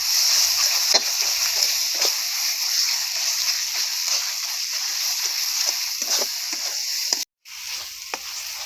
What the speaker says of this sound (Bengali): এক চামচের মতো টক দই দইটা দিয়ে ভালোভাবে মিশিয়ে নিতে হবে